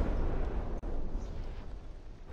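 Artillery shell fire and explosions from the From the Depths naval combat game, a dense rumbling boom that fills the clip with one brief sharp break, loud and continuous with no talk.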